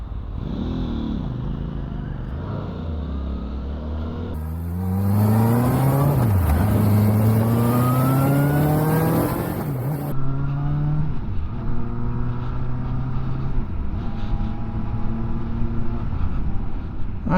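A 2025 Benda LFC700 motorcycle being ridden on the road, its engine rising through the revs in steady climbing sweeps, dropping at each gear change before pulling again, loud and close with wind rush over it.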